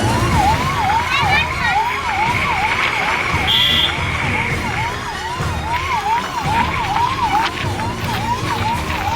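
A wailing ambulance siren at a road accident scene in Khandbara, India, rises and falls repeatedly in a steady cycle, loud and close, over traffic noise.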